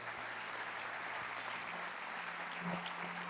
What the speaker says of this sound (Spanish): ¿Cuántos dan un fuerte aplauso al Señor?